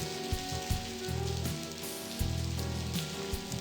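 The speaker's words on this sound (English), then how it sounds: "Oh, let the kitty in. It's raining." Rain falling in The Blackwell Convergence, a steady close patter and hiss over a low, looping musical drone.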